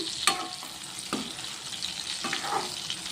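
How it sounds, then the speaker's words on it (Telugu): Eggplant pieces fry in oil in a pan over a low flame, giving a steady soft sizzle with a few brief stirring scrapes and no voices. "సిమ్లో పెట్టుకుని వేయించుకోండి ఫ్రెండ్స్"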